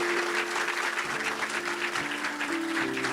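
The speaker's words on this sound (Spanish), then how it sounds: "Un aplauso fuerte al Señor." A youth church congregation applauds loudly, a dense continuous wash of many clapping hands that holds steady throughout, with a sustained organ or keyboard tone underneath.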